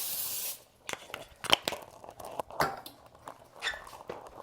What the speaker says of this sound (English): Let me get the spray.